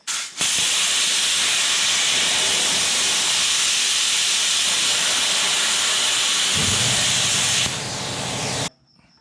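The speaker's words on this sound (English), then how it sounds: "I just got the plasma hooked up. I'm just gonna oval out these holes a little bit" A plasma cutter ovals out bolt holes in a steel solid mount for a triple-turbo second-gen Cummins, giving a loud, steady close-up hiss and roar for about eight seconds before it cuts off abruptly.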